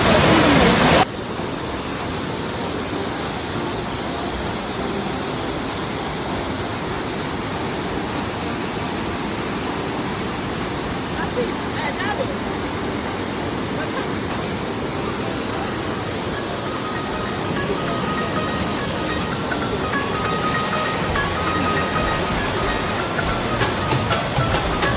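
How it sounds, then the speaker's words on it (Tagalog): Waterfall at Victoria Park in Truro, Nova Scotia, a steady, loud broadband roar of falling water that continues unbroken for the whole stretch, heard close with no clear speech. "Welcome to Johau Falls."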